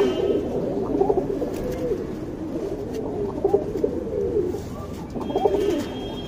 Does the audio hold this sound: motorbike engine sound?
no